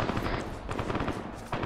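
A DShK heavy machine gun mounted on a UAZ jeep fires in the Arma military game, a short rattling burst of rapid shots, fairly quiet and at some distance.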